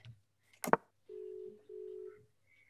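A phone call rings out: after a short clatter of handling, two long steady ringback tones sound in succession, fairly clear and alone, with a faint low hum beneath.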